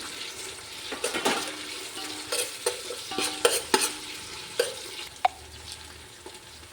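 Green chilies frying and stirred in a pan for chicken biryani, with steady sizzling and repeated scraping stir strokes and clinks of a spoon against the pan, close and fairly loud.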